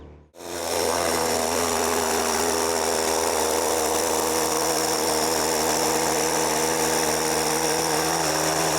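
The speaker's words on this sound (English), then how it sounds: "when I start blowing this out, you'll start seeing all this grime kind of start loosening" A cleaning tool blasts air to loosen grime inside a car during an interior deep clean, starting abruptly and holding a loud, steady rushing roar to the end.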